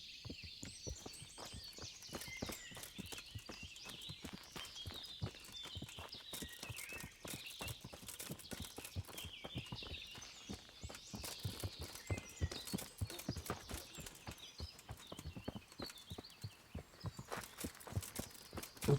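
Horse hooves clip-clop in the video game Kingdom Come: Deliverance, a fast, steady run of sharp hoof strikes lasting throughout, close and moderately loud, with faint ambient wind and birds behind.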